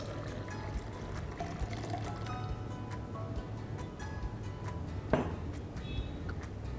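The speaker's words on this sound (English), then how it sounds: "And now add the hot water," Hot water, about three quarters of a cup, poured into ground coffee with orange zest and vanilla seeds in a plunger pot, a steady low splashing stream running throughout with a brief clink near the end.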